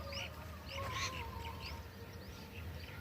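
Scattered high bird calls and chirps ring out over a low outdoor rumble in a groundnut field, some brief and sharp, others drawn out.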